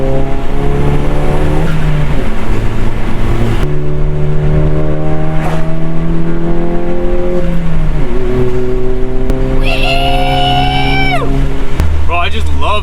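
A tuned VW Mk7 Golf GTI with an EQT Stage 2 tune pulls hard along a highway. Its engine drones loud and close, stepping through gear changes before the revs climb sharply near the end.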